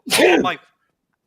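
A single sharp human sneeze bursts out loud and close for about half a second, followed by silence.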